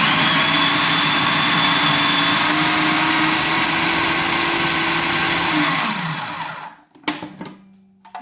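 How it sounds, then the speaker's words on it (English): A blender whirs loud and steady through a thick soaked cocoa and carob vegan fudge mixture, its motor pitch dropping and winding down near the end, followed by a few handling clunks. "I'm going to blend it all together"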